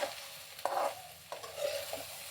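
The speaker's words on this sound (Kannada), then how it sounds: "ಹೈ ಫ್ಲೇಮಲ್ಲೇ ಇಟ್ಕೊಂಡು ಫ್ರೈ ಮಾಡ್ಕೊಳ್ಳಿ" Okra (ladies finger) frying dry on high flame in a pan: a bright, hissing sizzle with a few quick scraping stirs, close and fairly quiet, over about two seconds.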